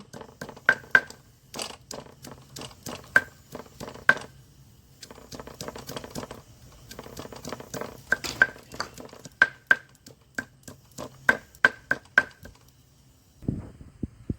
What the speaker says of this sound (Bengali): রসুনটাকে থেতো করে নেব।